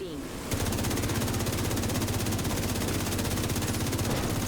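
Sustained rapid automatic gunfire in a video game, dense and continuous after a brief lead-in, loud and steady throughout with no pauses.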